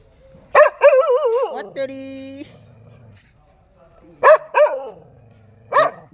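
A dog barks close by at a temple in several sharp, slightly whining bursts, with quiet gaps between the groups of barks.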